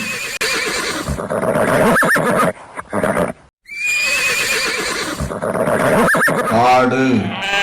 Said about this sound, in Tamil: குதிரை